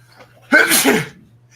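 A single loud, close sneeze bursts out over a faint steady hum, lasting about half a second.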